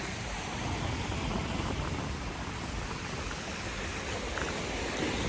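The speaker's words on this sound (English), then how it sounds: "Little windy today." Steady wind buffeting the microphone at a Key West beach, a constant broadband roar with faint surf underneath and no voices.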